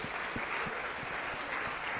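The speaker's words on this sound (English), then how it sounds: "Let's give them a round of applause" A university game theory class applauds, an even patter of clapping heard at moderate loudness for the full two seconds.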